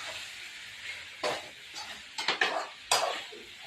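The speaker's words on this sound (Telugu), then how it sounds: "టమాటా వేసి అయితే మంచిగా కలుపుకోవాలి" A spoon stirs tomatoes into a tamarind stew in a pot, producing soft scraping and a few clinks against the metal over a low steady hiss.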